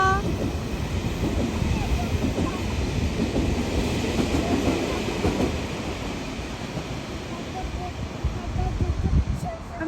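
A KTX high-speed train passes on the railway between Masan and Changwon stations, heard from a railway footbridge. It makes a continuous, roaring rumble with rushing wind and rail clatter, and a voice may come through faintly.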